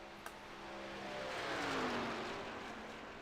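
Race truck engine on a dirt track, a distant engine swelling as it passes and fading away, faint and smooth.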